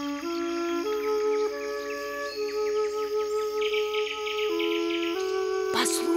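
A nightingale trills and warbles through a varied, ringing song over a steady high-pitched whistle or tone, ending with a sharp click.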